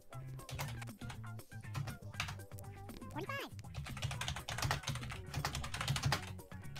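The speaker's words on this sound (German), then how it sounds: "Oh, bitte leiser tippen." Rapid typing on a computer keyboard during a German online party game, a dense run of clicky keystrokes over a low hum, with people talking throughout.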